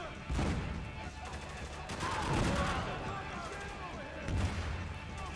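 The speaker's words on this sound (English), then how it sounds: "The perfect tool to play. Grenade launcher!" Grenade launcher fire in Spec Ops: The Line, several heavy thumping blasts and explosions mixed with gunfire, loud and close, while a voice talks over parts of it.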